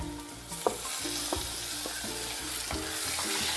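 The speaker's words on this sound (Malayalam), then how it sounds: "ഇനി ഇതിലേക്ക് നമുക്ക് ഒരു ചെറിയ തക്കാളി കട്ട് ചെയ്ത് വെച്ച ചെറിയ തക്കാളി ഇട്ട് കൊടുക്കുന്നുണ്ട്" Chopped tomato frying in a pan with onion, ginger, green chillies and curry leaves, a bright continuous sizzle punctuated by several spoon-scraping stirs, close and steady, with no voices.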